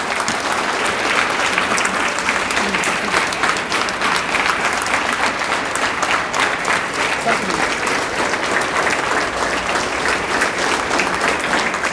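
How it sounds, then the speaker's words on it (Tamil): Loud, sustained audience applause honouring an achiever at an awards event for exam candidates; dense clapping from a large hall crowd continues evenly for about twelve seconds. "பலத்த கரகோஷம் எழுப்பி அவர்களை கௌரவிக்கும்படி கேட்டுக்கொள்கிறேன்"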